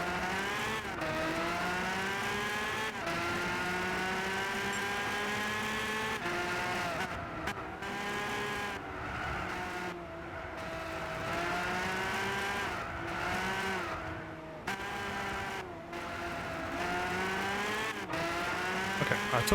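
A McLaren stealth model race car in Gran Turismo 6 drives a long stretch with its engine loud and steady. The pitch climbs through the gears and drops again with each shift, and brief lifts or skids break the run.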